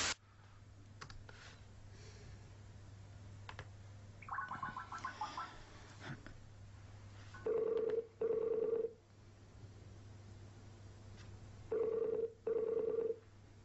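A telephone is dialed with a short burst of tones, and then a ringback tone purrs in two pairs of long rings with quiet gaps between them. Faint and close, heard alone over a low hum.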